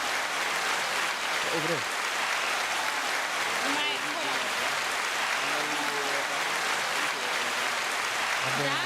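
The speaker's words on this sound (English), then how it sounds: "The hand claps." Hand claps ring out over a broad, continuous wash of clapping and crowd noise, with several people talking and calling out across it the whole time.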